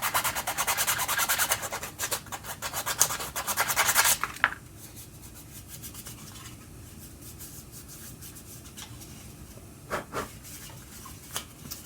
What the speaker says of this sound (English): Okay, so now it's sanded.